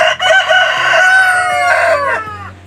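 A rooster on a chicken farm with Orpington and Plymouth Rock breeds gives one loud, close, drawn-out crow that rises and trails off, heard alone without talk.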